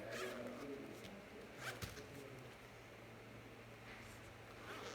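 Zipper on a makeup shading kit case pulled open close by, a quick rasping zip followed by faint rustling and handling in a quiet room.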